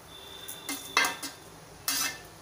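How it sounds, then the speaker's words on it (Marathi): Poha being gently turned and mixed in a pan, giving a few separate clattering scrapes of a spoon against metal with quiet pauses between. "मस्त पोहे मिक्स होत आहेत."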